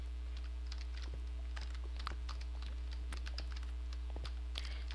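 Computer keyboard typing during Minecraft parkour play, a steady patter of light key clicks under a constant low hum, fairly quiet and with no voices.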